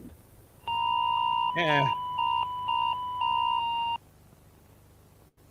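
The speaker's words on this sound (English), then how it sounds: "warnings of the attack will be broadcast through a text message warning and sound" Electronic warning alert tones ring out loud and near: a sustained two-pitch beep with a brief warbling burst in the middle, then several shorter repeated tones before it cuts off; a voice murmurs briefly.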